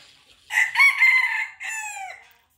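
A decoy rooster crows loudly and close by, one full cock-a-doodle-doo in several strained segments followed by a falling tail, with no voices.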